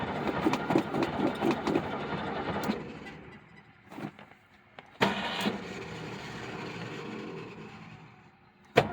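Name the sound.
1975 Ford Granada engine cranking, trying to start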